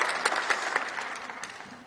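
Applause fills the European Parliament chamber, a dense wash of many hands clapping at steady volume that slowly thins toward the end, with no voices on top.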